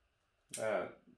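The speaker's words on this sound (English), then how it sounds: "these scissors are really going good" Bonsai scissors make a single crisp close snip through a silver birch branch, a short sharp cut that fades quickly in an otherwise quiet space.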